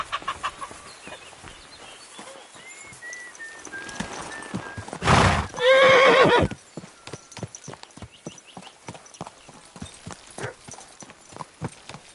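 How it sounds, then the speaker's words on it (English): A horse gives a loud, shrill neigh amid steady hoof clip-clops, with fowl clucking faintly in the background. "This horse must have cost a pretty groschen"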